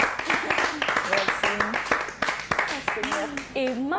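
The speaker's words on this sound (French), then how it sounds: "On va dire merci à Awa avec des applaudissements" A TV studio audience claps briefly while a presenter keeps talking over it, the applause sitting mostly beneath the voice.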